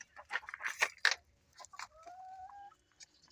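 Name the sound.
silky chicken hen clucking at feeding time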